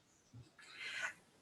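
A house cat meows indoors during a beginners' drawing class, a short rising mew that stands out clearly above quiet room tone, preceded by a faint low murmur.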